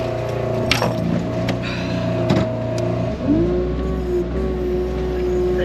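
A petrol hedgecutter engine runs steadily and loudly throughout with a rattly, buzzing tone, its pitch dropping and settling at a lower idle about halfway through.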